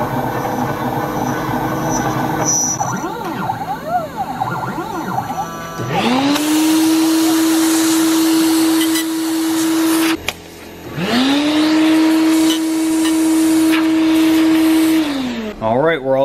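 CNC machine spindle spinning up to 10,000 RPM and cutting a block of scrap material, a loud steady whine rising quickly and holding, cut off briefly and then repeated, close by, with voices talking beneath.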